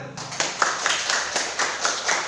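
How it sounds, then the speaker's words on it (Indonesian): Classroom clapping during a science lesson, a group of pupils striking hands in roughly even, repeated bursts about every quarter second, close and moderately loud. "Tepuk tangan."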